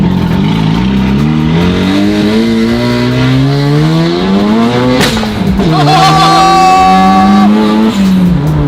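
A Mazda RX-7 from the Fast and Furious films revs hard and close, its harmonic engine note climbing and falling through several pulls with a sharp exhaust bang near the middle, loud throughout.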